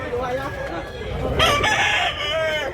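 A rooster crows loudly and close at a busy gamecock sale in Tabunok, Talisay, Cebu, its long harmonic call rising over a murmuring crowd and the clucking of other fowl.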